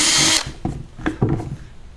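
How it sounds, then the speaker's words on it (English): A power drill bores a hole for a switch in an LED light power box, starting with a loud steady whine that stops abruptly, followed by several short bursts of drilling and handling. "So I need to drill here for my switch and then put a little pilot hole for my screws to hold this on."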